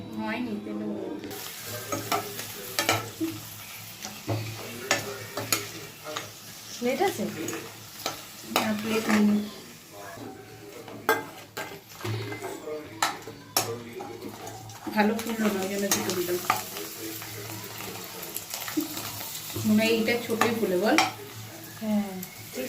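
Oil heats and sizzles in a pan, a continuous crackling hiss mixed with frequent stirring clatter and utensil knocks, with a voice speaking intermittently over the cooking noise.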